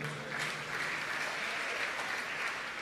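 A church congregation claps together in steady, dense applause, a uniform crowd of hands filling the room at close range for the whole moment, with no talk over it.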